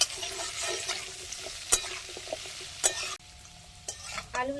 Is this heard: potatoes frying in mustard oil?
yes